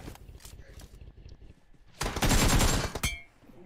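Video game gunfire: scattered single shots and short bursts at first, then a loud, dense volley of rapid automatic fire for about a second before it trails off into a few more shots.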